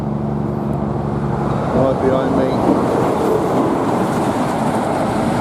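Large road-train trucks roll past on a main highway at night, a heavy rumbling roar that swells and holds close by, with a brief spoken remark near the start.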